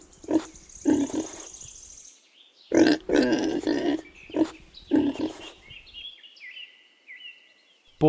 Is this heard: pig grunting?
yes